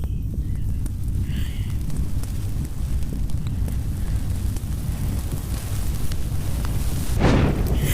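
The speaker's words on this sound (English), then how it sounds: "I'm gonna light myself on fire." Flames roar up as a person sets himself alight, a loud continuous rushing whoosh with a sharper flare near the end, with wind-like rumble on the microphone and no voices.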